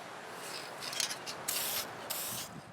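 Aerosol finish hissing onto a poplar wooden shoulder stock for a replica MG-34 prop, several short sprays in quick bursts, close and fairly quiet, with faint rubbing between them.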